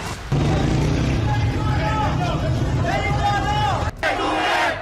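Enraged protesting crowd rioting in Iran, a dense roar of shouting voices and chanting close up, with rising and falling cries over constant babble, briefly dipping near the end before surging again.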